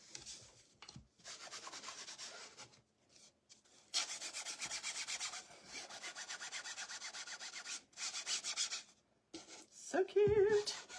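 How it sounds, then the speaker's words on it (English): Black ink is rubbed along the embossed top of a glass mason jar in short, soft scratchy strokes with pauses between them, close and quiet, followed by a brief voice at the end. "Got some black ink that I am just going to kind of run along this embossing on the top."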